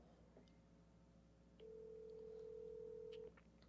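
A single ringback tone sounds for about two seconds while a phone call is placed to return a missed call. It is faint and steady, with quiet room noise before and after.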